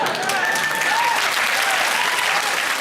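A studio audience claps steadily on a TV panel show, dense and even applause that runs throughout without a break.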